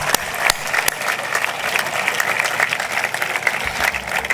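A crowd at a Catalan political party event claps for a person, giving dense, sustained applause throughout, with a few sharper individual claps standing out near the start.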